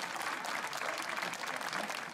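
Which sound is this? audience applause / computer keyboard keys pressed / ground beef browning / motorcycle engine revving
audience applause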